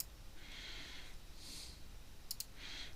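A computer mouse gives two quick, faint clicks near the end during rigging work in 3ds Max. The clicks sit under a steady hiss with soft breathy bursts.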